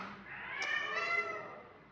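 A rescued cat named Prince screams out a single long, loud, drawn-out meow close by, rising and then fading, left alone in a big room.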